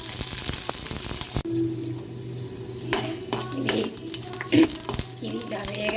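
Green chillies frying in oil in a pan for tomato chutney, a steady close sizzle with clinks of a metal utensil against the pan and brief speech over it.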